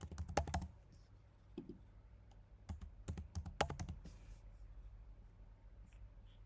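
A password is typed on a computer keyboard during a CentOS install in VMware, heard as faint, irregular clusters of quick key clicks with brief pauses between bursts.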